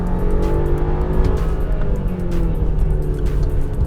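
A 2021 Audi A6 with a four-cylinder engine pulls away hard from a stop, its steady, loud engine note climbing through the revs with rising tonal lines.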